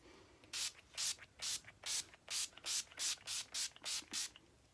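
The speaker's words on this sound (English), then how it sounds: "I always set my face with the Urban Decay All Nighter setting spray" About a dozen short hissing sprays of Urban Decay All Nighter makeup setting spray in quick, fairly even succession, each a brief burst of fine mist, close to the listener.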